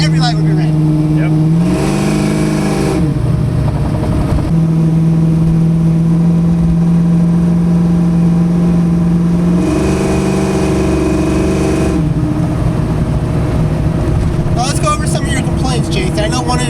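Loud, close revving from a cammed 1988 Ford Mustang Foxbody running BBK long-tube headers, with a steady lopey idle broken by repeated throttle blips that swell and fall, several in sequence, with no talking.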